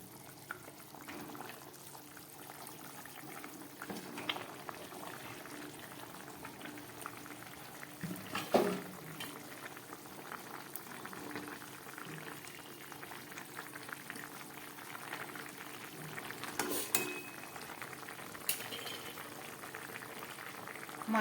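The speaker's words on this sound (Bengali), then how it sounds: "মাছের ঝোলটা ফুটছে" A thin Bengali fish curry with fried fish, potatoes and cauliflower stems bubbles in a pot, a quiet continuous simmering hiss with scattered pops and a couple of brief louder clinks, no voices.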